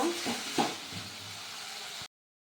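Onion and tomato fry in a pan with a steady, close sizzle, with a few stirring scrapes near the start, then the sound cuts off abruptly after about two seconds.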